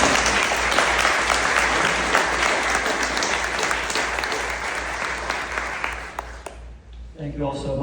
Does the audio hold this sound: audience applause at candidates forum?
yes